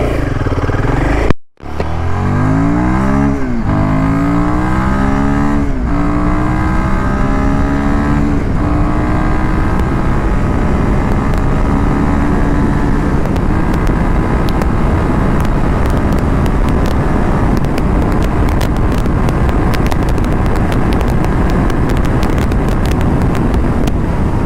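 A Royal Enfield Himalayan 450 motorcycle accelerates hard on an open road, its engine rising in pitch through several gear changes, with constant wind rush over the microphone throughout.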